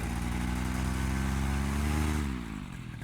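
A rebuilt paramotor engine runs steadily at quarter throttle, a loud, close, buzzing drone with strong harmonics that holds even for about two seconds, then its pitch drops and eases off as the throttle comes back.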